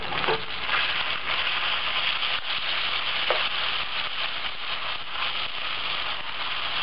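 Bacon frying in a pan gives a steady, dense sizzle and crackle with no break, close and even in loudness, with no one talking.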